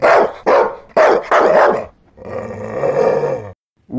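A voice imitating a big dog, giving several loud, close, gruff barks in quick succession, then a sustained growling roar before cutting off.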